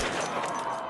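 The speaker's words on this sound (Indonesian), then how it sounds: "Satu persatu nama mereka dipanggil dan langsung ditembak mati." Gunfire from a firing squad executing prisoners in the film The East, a dense, sharp burst of overlapping shots filling a brief moment.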